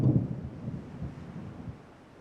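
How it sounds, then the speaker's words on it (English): Storm at sea in the naval strategy game Ultimate Admiral Dreadnoughts: a steady low rumble of thunder and rain, loudest at the start and easing off toward the end, with no voices. "This storm's really bad."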